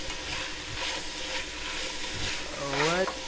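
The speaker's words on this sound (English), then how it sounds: "So that's when we put the onions. We just dump them like this, right? Now we stir it nicely." Onions and meat sizzle in a pot for traditional Uzbek plov as they are stirred, with a constant hiss, a few soft low thumps, and a brief rising squeal near the end.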